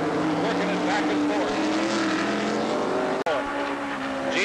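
Heavy race cars of the 1981 Kelly American Challenge at Pocono roar down the straightaway, engines blaring loud and continuous with shifting pitch, under a commentator's voice.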